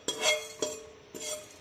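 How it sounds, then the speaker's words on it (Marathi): Fenugreek seeds roast in a pan while a utensil stirs them, giving three or four brief scraping clinks spaced out with quiet sizzle in between, close and fairly soft, no talking. "मेथी घालून भाजून घ्या"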